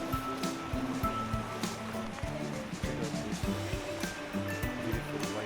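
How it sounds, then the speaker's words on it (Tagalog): A river flows beside a rocky, sandy mountain trail on Mt. Pinatubo, giving a steady broadband rush of moving water, fairly close, with faint voices and some outdoor noise mixed in. "May ilog bigla."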